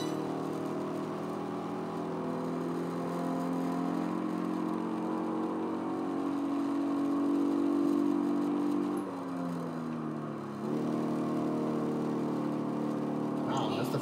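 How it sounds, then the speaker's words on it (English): Toyota 2JZ engine exhaust heard in the racing game Project Gotham Racing 4 on the Nürburgring, a steady mid-pitched drone that climbs and then dips sharply as the revs change near the end. "the 2JZ exhaust note in this game does not sound as you expect"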